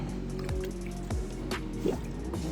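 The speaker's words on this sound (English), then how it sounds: "Let some of that water rinse off that chlorine, bleach off of it." Water runs over seashells to rinse off Clorox bleach, giving close, wet dripping and squishing splashes at a loose, irregular rhythm.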